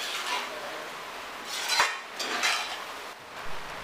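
A spoon scrapes and clinks against a pan as clam meat roast gets a final stir after a sprinkle of pepper powder, with a few distinct metallic knocks over a soft background hiss.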